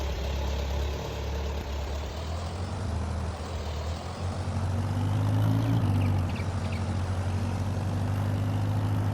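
An old tractor engine idles in Farming Simulator 22 with a steady, low, throbbing rumble close by, swelling briefly midway before settling back to an even idle, with no voices.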